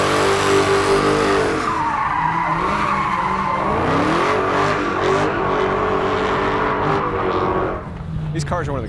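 Dodge Hellcat and Viper cars thrashing their tires in a loud, sustained skid with engine roar, tire squeal lasting several seconds before easing near the end, with voices talking over it.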